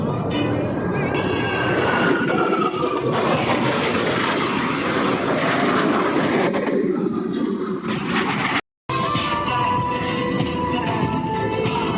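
Jet aircraft roar steadily and loudly through an opposing knife-edge pass at the Miramar airshow, a continuous engine drone that swells and shifts, with a brief gap near the end before the roar resumes.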